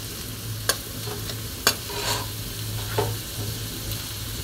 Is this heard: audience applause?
no